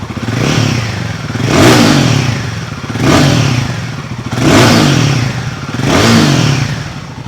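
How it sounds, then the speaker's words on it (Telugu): A Royal Enfield Guerrilla 450 motorcycle with a DOHC engine revs in neutral, its exhaust note rising and falling in about five steady swells over a continuous idle rumble, loud and close. "ఇప్పుడైతే మనం royal Enfield gorilla four fifty యొక్క ఎగ్జాస్ట్ నోట్ అయితే విందామండి"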